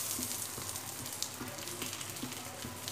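Boiled eggs and boiled potatoes sizzling in hot oil in a pan, a steady close crackle with small spattering pops throughout and no talking.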